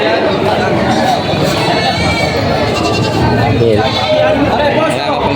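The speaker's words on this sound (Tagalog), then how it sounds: "Marami rin dumating ng mga kambing dito ngayon sa paradahan." Goats bleat repeatedly amid a busy crowd murmur and chatter at a goat market in Padre Garcia, Batangas, Philippines, the animal calls overlapping in a noisy outdoor atmosphere.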